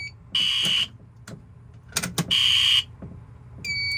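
A fire alarm sounds during a fire system test, giving two loud, shrill electronic bursts of about half a second each with quieter thuds and handling noise between them, then a steadier tone at the end.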